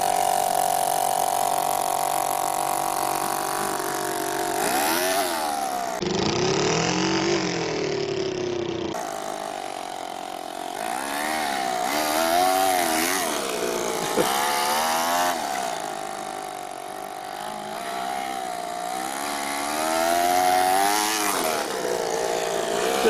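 Toyan FS-L200 model engine fitted in a radio-controlled Ford F450 truck runs and revs, its buzzy tone rising and falling in pitch with throttle changes, heard up close with no talk.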